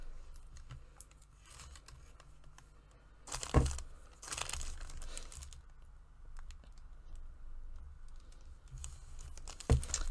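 Vinyl is peeled and picked away from its backing with a weeding tool, producing faint close scratchy rustles and small crinkles, with a couple of sharper ticks and tearing bursts against quiet background.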